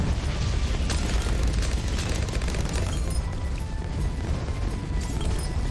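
ZOMG blimps being popped in Bloons TD, a loud, continuous stream of overlapping bursts and crunchy pops that holds steady with no pauses.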